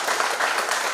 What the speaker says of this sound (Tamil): நல்ல ஒரு பலத்த கரகோஷம்